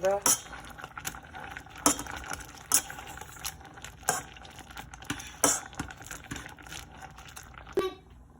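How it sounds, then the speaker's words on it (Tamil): A masher presses boiled food in a pot, producing sharp irregular clacks and knocks of metal against the vessel, close and distinct, spaced unevenly over a soft background. "நல்லா ஒரு மசிக்கிறத வச்சு நல்லா மசியுங்க"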